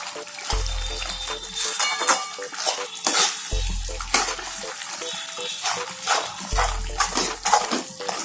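A spoon stirs a whole-onion curry with turmeric and salt in a pan, with repeated scraping and clinking strokes, soft sizzling and wet mixing sounds in a steady rhythm, up close and moderately loud.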